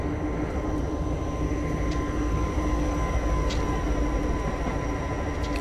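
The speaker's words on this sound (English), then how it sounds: "experiment of me driving German trains again." German train driven in a train simulator game, a steady, continuous rumble of rolling wheels and motor hum with faint high tones, alone with no voices.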